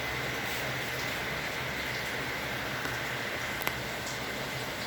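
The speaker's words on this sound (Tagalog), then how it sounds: "Medyo maingay ngayon kasi umuulan." Steady rain hisses continuously, a dense even wash of drops with one faint click near the end.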